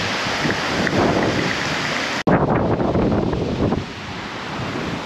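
Strong storm wind gusting in Melbourne, a loud continuous roar buffeting the microphone with a brief cut midway, then surging again before easing slightly, no voices.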